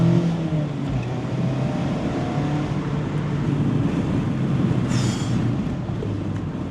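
The engine of a 2025 Mazda MX-5 RF GS-P hums steadily while driving, a constant mid-level drone mixed with road and wind noise and no talk.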